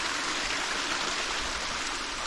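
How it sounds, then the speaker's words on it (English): A small cool stream runs right beside the Appalachian Trail near Tray Gap, its water rushing in a constant, close, full hiss with no breaks and no talking. "This cool little stream right along the trail."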